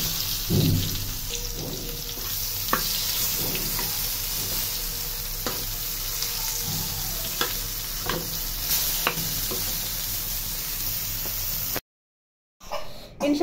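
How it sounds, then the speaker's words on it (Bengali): Eggplant slices frying in oil in a pan in a home kitchen give a steady close crackling sizzle with sharp pops and stirring scrapes, ending in a brief cut to silence. "বেগুনগুলো ভাজা হয়ে গেছে, নামিয়ে ফেলে বাকিগুলো আবার দিতে হবে।"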